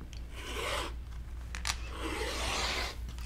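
Scissors or a cutter slices a straight line through quilt fabric, giving a soft, close rasping and rubbing sound in short strokes over a few seconds, with no talk.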